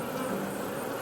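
Honey bees in an opened beehive, a dense steady hum of many buzzing insects, close and continuous, with no voices.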